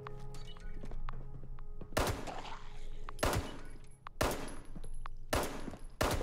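Gunfire in the video game Fallout 76: three loud, sharp broadband shots in a row, separated by about a second of ringing decay, over a low in-game ambience.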